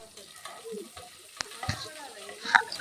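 Sliced onions sizzle in hot oil for a chicken dum biryani as they turn golden, with a soft steady crackle broken by a few sharper scrapes and knocks of a stirring spoon near the end.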